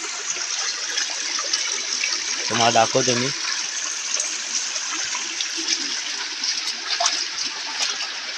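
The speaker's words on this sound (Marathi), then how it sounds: "पाकाडीला सुद्धा जोरदार पाणी आलं आहे बघा" Rainwater rushes loudly and steadily through a roadside channel after a heavy shower, a close continuous gush, with someone briefly speaking over it.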